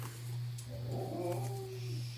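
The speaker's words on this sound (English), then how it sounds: "She's such a vocal dog." A dog whimpers and whines in short rising, wavering cries near a steady low hum indoors, faint and without talk.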